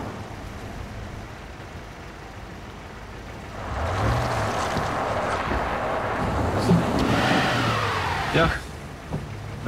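A stuck car's engine revving repeatedly, rising and falling in whining surges over a low rumble after a quieter start, with people talking in the background.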